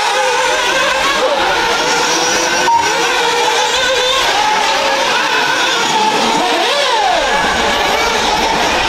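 An X-Ray radio-controlled race car drives around a track during a big race quarter-final, its high-pitched motor whining and revving steadily at close range, with rising and falling pitch sweeps as it accelerates and turns, continuous throughout.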